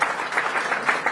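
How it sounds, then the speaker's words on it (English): A small team of about nine people clapping together, a steady, dense patter of hand claps at moderate volume, continuous through the short stretch with no voices over it. "That's their own team clapping around."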